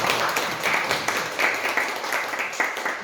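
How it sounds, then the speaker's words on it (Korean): A church congregation claps during a Sunday worship service after a hymn, steady applause with distinct hand-clap peaks, moderately loud and unaccompanied by talk. "다시 한번 우리 큰 박수로"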